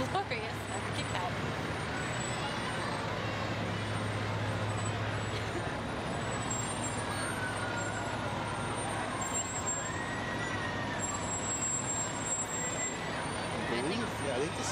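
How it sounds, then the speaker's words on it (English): A Bangor Fire Department fire truck with air brakes rolls past in a Halloween parade, a steady low engine rumble and street noise running throughout with people talking nearby. "This is the final fire truck from the Bangor Fire Department."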